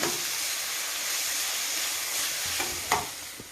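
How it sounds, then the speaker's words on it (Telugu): Seeds sizzling in hot oil for raw mango pulihora make a continuous close frying hiss, with a few sharp spoon scrapes and clinks near the end and no talking. "విత్తనాలు అండి బాగా మగ్గాలండి నూనెలో"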